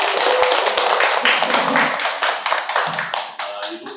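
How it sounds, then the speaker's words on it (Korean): Applause from an audience at a Korean book talk, congratulating an author on her first novel; dense clapping fills the room and tapers off near the end, loud and close. "먼저 저희 축하 박수 한 번만."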